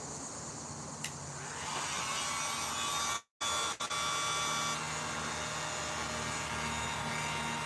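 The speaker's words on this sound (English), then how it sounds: "Now we just let that dry with the help of a heat gun." A heat gun blows continuously to dry paint on a costume prop, a steady close whirring hiss that drops out briefly twice before resuming.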